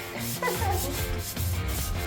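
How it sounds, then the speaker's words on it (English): Close, continuous rubbing and scraping strokes of wet sanding by hand on a painted surface, repeating in a steady back-and-forth rhythm. "The key to wet sanding"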